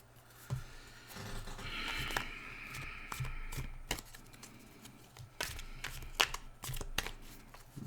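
Tarot cards are shuffled by hand for a card reading, with a series of crisp riffling and slapping bursts at irregular intervals, close and fairly quiet, with no voices.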